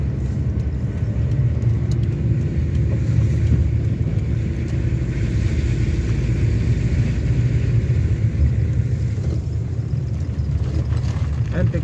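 Renault 11 diesel car climbing a small hill, a steady low engine rumble heard from inside the cabin throughout, continuous and fairly loud with no other prominent sounds.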